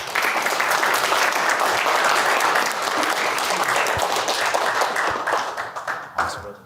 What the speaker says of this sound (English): round of applause for Jimmy, please